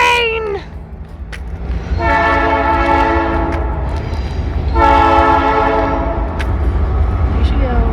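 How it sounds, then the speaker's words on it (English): A train on tracks crossing a wooded hiking trail after dark sounds two long, loud, harmonic horn blasts close by, with a steady rumble of rail cars rolling past underneath. "Here comes the train!"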